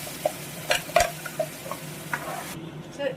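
Masala paste frying and being stirred in oil in a pan for paneer masala gravy: soft sizzling under a few scraping stirs and light clinks of a spoon against the pan, close and quiet.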